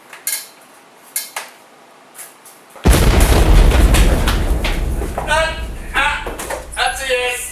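Waffles explode while cooking in a video game: after a few light clinks, a sudden loud boom turns into a sustained crackling roar, and voices talk over the end.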